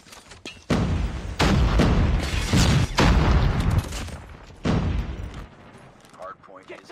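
Bursts of heavy gunfire crash through a Call of Duty ranked Hardpoint match, loud and dense for several seconds with brief gaps, over game ambience.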